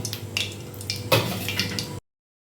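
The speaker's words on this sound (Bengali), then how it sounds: "এটাও ভেজে নিলাম আমি এরকম লাল লাল করে ভেজে নিলাম" Amudi fish frying in hot oil makes a soft, crackling sizzle with bursts of spattering and a brief louder pop, close and steady for about two seconds before cutting off.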